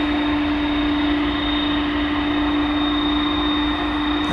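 Tri-jet airliner engines of a Fiji Airways flight to Nadi spool up for departure at DFW Airport, a loud, steady roar with a high whine held throughout, heard alone.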